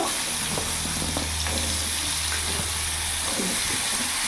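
Ridge gourd goes into a hot oil tempering of chili and five-spice and sizzles with a steady, dense hiss close by, while a low hum continues underneath.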